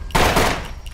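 A gunshot in the survival game SCUM, a single sharp loud blast with a broad burst of noise that rings out and decays over most of a second.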